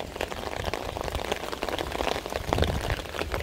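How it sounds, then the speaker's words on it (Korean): Heavy rain pours onto a rooftop, a dense steady patter of drops striking hard surfaces close by, with no voices. "여기 옥상에 보면 이런 구조물이 있는데 요거 타고 비가 한쪽으로만 되게 세게 떨어지더라고요"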